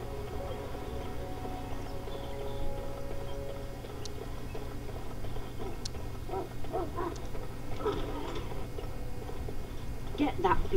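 Video game dog barks, yips and whimpers from Dragon Age: Origins sound over low ambient game noise, with speech throughout.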